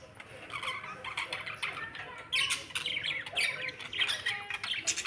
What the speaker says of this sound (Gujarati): અમારા ઘરે પોપટ તો હતા જ અને કબૂતર પણ આવી ગયા છે રમવા માટે